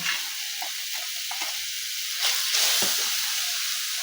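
Cumin goes into onion and garlic already frying in a pan, giving a close, continuous sizzle with light stirring clicks that swells into a louder hissing burst midway before settling back.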